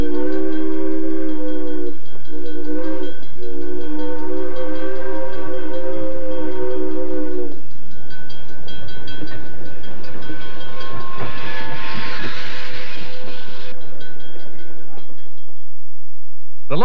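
A train runs in the Trainz simulator game, set on the Strasburg line in the 1980s: a loud, sustained whistle with layered tones, then a steady rumble and rail clatter of the moving cars, with a burst of hiss later.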